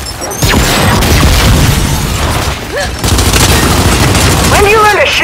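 Gears 5 firefight: loud, rapid bursts of automatic gunfire and heavy booms hammer almost continuously, close and dense, with brief shouted voices cutting in near the end.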